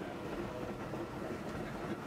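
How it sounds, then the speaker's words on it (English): A passenger train rolls along on a long excursion ride out of Duluth, its steady rumbling clickety-clack of wheels over rail joints filling the space continuously at moderate loudness, with no voices. "When you hear that sound, the clickety-clack of the train"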